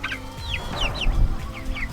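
Chickens raised for meat cluck and chirp in quick repeated calls on grass, fairly close, with a low background rumble and no talk.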